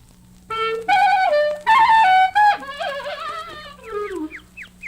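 A clarinet imitates birdsong, playing sliding, warbling notes in short phrases followed by a falling run and quick chirp-like flicks at the end, loud and close with no talk.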